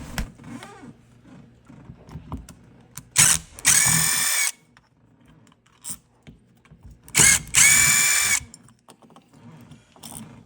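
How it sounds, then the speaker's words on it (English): A power drill bores a hole for new front door hardware in two loud, steady bursts of about a second each, separated by quieter handling clicks and small tool noises. "And we succeeded in making another hole."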